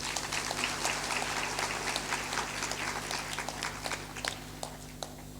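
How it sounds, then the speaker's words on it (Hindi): Applause from a large audience at a live religious satsang gathering in Chhattisgarh, India, a steady dense clatter of many hands sustained throughout, fairly distant with a low hum underneath. "ताली बजा दीजिए।"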